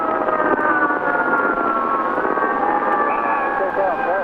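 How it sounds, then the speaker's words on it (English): Sirens wail with slowly sliding tones over a rumbling engine background in a 1963 motorcade recording, steady and fairly loud, with a brief rising horn-like tone near the end. "Further on in the recording, we hear the sounds of sirens and a car horn."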